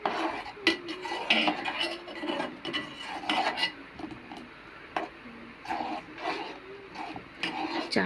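Tea leaves are stirred dry in a pan with no sugar or water, a utensil scraping and rasping against the metal in repeated strokes, close and moderately loud.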